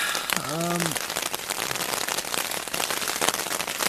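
Dense, steady patter of rain on a thin silnylon tent close by, with a brief voice-like sound near the start.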